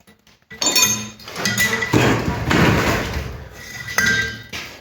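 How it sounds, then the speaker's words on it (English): Hammer blows pound an annealed spring steel blade on an anvil while it is cold forged, a series of close, ringing metallic strikes following one another unevenly over a few seconds. "you grab one of your annealed blades, and then you just start pounding"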